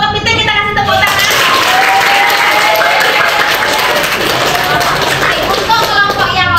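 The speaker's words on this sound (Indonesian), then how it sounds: "Untuk kelompok kepiting kita kasih tepuk tangan." Students clap loudly for the winning group at a classroom team games tournament, with energetic applause and children's voices talking over it.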